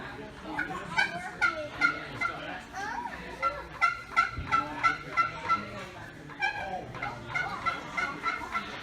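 A man imitates a wild turkey call with his voice, producing a series of loud, close gobbling and yelping bursts in uneven clusters, with pauses and a few softer breaths between them.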